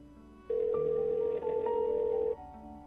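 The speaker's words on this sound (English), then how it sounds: "A moment later, I heard the sound of the line ringing and I brought the phone to my ear." A phone line ringing: one steady electronic ring tone sounding for nearly two seconds, then stopping, close and clear over a faint low background.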